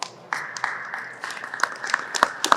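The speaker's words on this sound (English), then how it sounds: "Yeah, you can applaud, that's fine" Scattered applause from an audience, light at first and then building into uneven, nearby claps with a few sharper, louder hand strikes.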